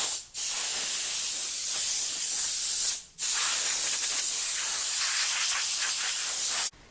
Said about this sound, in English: I'm going to take it round to the air compressor and just shoot at it with compressed air